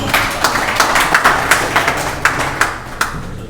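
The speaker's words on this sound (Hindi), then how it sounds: "तालियों से एक बार स्वागत करें।" An audience at a public meeting applauds to welcome the chairman, with a dense wash of clapping and a few sharper individual claps standing out at a fairly steady pace, close and loud throughout.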